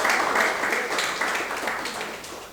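A lecture audience applauds a doctor at a university talk on water, the dense clapping fairly quiet and gradually fading over a couple of seconds.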